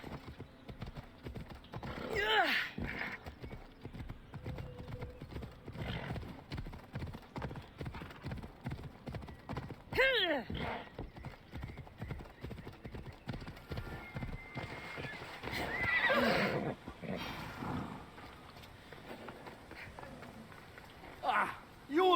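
Video game sound: steady clip-clop of horse hooves trotting, with a few loud whinnies breaking in now and then.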